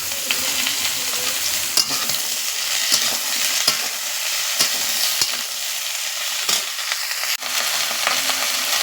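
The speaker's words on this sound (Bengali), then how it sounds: "এবার কাঁচকলা দিয়ে দিচ্ছি বেগুনগুলো দিয়ে দিচ্ছি একসাথে সব ভালো করে নেড়ে নেবো" Raw banana, eggplant and bottle gourd stalks being stirred together in a frying pan, a continuous loud sizzle broken by repeated spatula scrapes and clacks against the pan, with no voices.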